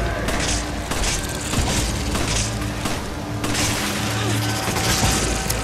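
Gunfire and booms from a Resident Evil 5 co-op session, a dense run of shots and impacts over steady game noise and music, with voices now and then.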